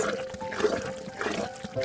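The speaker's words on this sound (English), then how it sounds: "The paste is mixed with water, and the churning begins." Wet, sloshing churning of shea butter paste mixed with water by hand in a clay pot, a close, irregular squelch and splash with uneven bursts.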